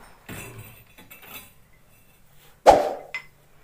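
A hammer strikes a steel chisel during house wiring work, a single sharp metallic clink ringing out close and loud after some faint handling noise.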